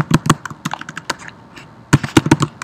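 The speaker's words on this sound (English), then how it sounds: "my typing here is gonna drive you nuts" Close, loud keystrokes on a computer keyboard come in two quick bursts of irregular taps, separated by a brief pause.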